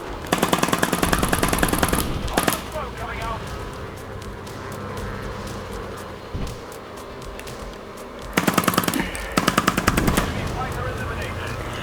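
Bursts of rapid automatic gunfire from a VR shooting game played with a Provolver gunstock, loud and close, with a long rattling burst at the start and more near the end, over steady game background noise.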